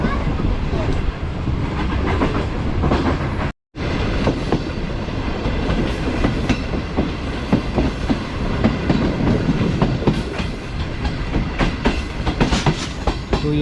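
The New Shalimar Express, a passenger train on the Karachi to Lahore line approaching Rahimyar Khan station, rattles with loud rhythmic clickety-clack of wheels over rail joints and a steady rumble, heard close from inside a carriage, with a brief dropout early on.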